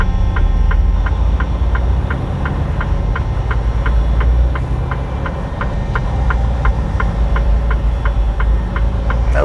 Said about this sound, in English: to run the fan on it constantly to keep it from shutting down. So that's what you're hearing.